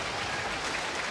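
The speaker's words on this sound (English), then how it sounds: "A nice round of applause by the sellout crowd here in Cincinnati." Steady applause from a sellout crowd at a Cincinnati baseball game, a dense even roar of clapping heard from a distance across the stadium.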